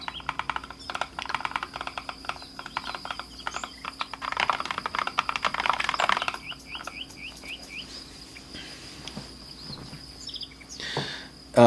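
Quick irregular keystrokes clatter on a computer keyboard in bursts, with a denser flurry in the middle, near and fairly loud over a faint electronic hum, and occasional short chirp-like tones overlapping.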